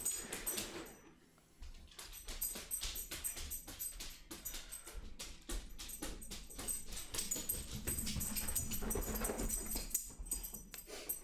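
A dog whimpers and barks in a busy, cluttered mix, with a string of sharp repeated bursts over a steady background that runs throughout and swells toward the end.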